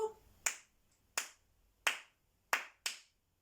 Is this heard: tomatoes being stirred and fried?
no